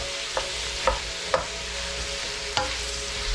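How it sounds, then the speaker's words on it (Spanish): Jalapeño chiles sizzle in a frying pan, a constant close crackle broken by several scraping stirs spaced a second or so apart. "Ahí le vamos a ir moviéndolo para que se nos fría bien por unos 5 minutos."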